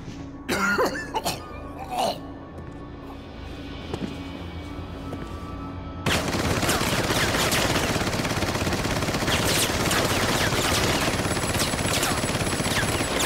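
Gunfire in Resident Evil 4 HD opens with a few sharp separate shots near the start, then erupts after about six seconds into loud, sustained rapid fire that runs to the end, with a cough heard early on.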